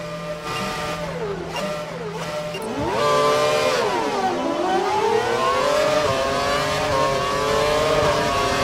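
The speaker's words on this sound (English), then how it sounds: "You used the KERS and DRS to good effect and were able to pass the car." Formula 1 race car engines from the F1 2012 video game scream at high revs, pitch dropping on downshifts and then climbing steadily as the car accelerates, loud and continuous with no talk.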